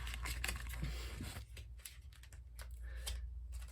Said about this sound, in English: I'm going to do some shuffling and pull you 7 tarot cards